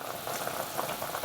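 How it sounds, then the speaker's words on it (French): A pot of vegetables for légumes à la grecque boils hard, with dense, steady bubbling and popping close by, filling the whole brief moment with no voices. "Voilà une grosse ébullition."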